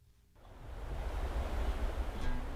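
Gentle sea waves off the coast of Gogeumdo island, Wando, at sunset, a soft continuous wash of surf that swells in after a brief quiet moment, with faint wind rumble and no voices.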